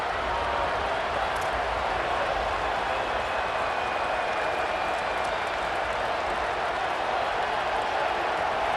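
Dense, steady roar of a large video game college football stadium crowd, a constant wash of cheering and noise with no breaks, filling the space evenly throughout.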